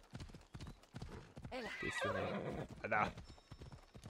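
Horse hooves clip-clop at a steady gallop while riding in the video game Assassin's Creed Odyssey, with a horse whinnying partway through and someone talking over the galloping.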